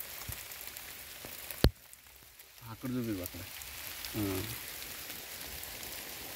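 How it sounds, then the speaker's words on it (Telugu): Heavy rain falling outdoors during running practice, a soft, steady hiss with a sharp knock and a few brief voices talking over it. "బాగా వాన్ పడుతుంది అక్కడంతా."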